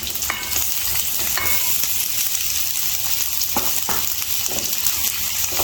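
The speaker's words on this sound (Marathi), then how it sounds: "1 चमचा तेल घालणार आहे आणि कांदा परतून घेणार आहे तेलामध्ये." Sliced onions fry in a spoonful of oil with a loud, continuous sizzle, punctuated by a few sharp clicks and scrapes from stirring.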